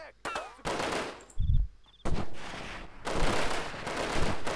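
Gunfire from the Delta Force video game rattles in loud bursts of rapid automatic shots separated by brief pauses, with a low thump and a couple of short electronic tones in one gap.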